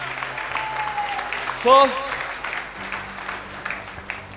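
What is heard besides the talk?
applause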